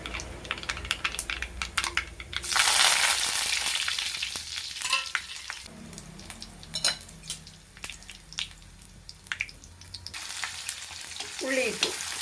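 Mustard seeds splutter and crackle in hot oil for a Kerala thoran, a loud, dense sizzle with sharp pops throughout, with stirring and the clink of a utensil against the pan.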